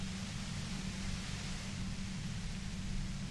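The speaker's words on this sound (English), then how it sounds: "You hear through the white noise." Quiet, steady white-noise static hums through a scene in the Disco Elysium video game, an even wash of hiss with a low rumble beneath it, unbroken and free of speech.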